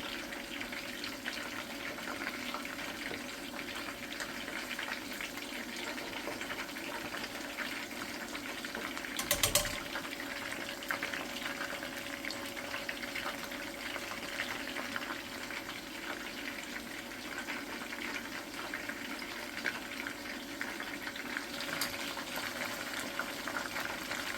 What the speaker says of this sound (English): I'm gonna roast it in oil.